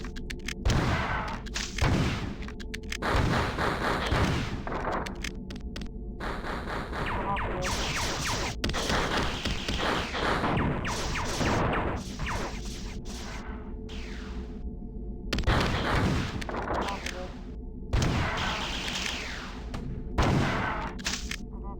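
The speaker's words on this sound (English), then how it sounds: "Taking rockets to the face, you know, like you do." Repeated rocket impacts and blasts slam into the player in the Marathon 2: Durandal first-person shooter, a dense, loud run of booming hits and whooshes over a constant low drone of game music.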